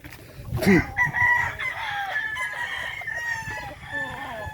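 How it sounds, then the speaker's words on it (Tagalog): Roosters crow and hens cluck at a game farm, with one loud nearby crow rising early, followed by overlapping calls and steady clucking from several birds at varying distances. "Magaganda yung manok dito."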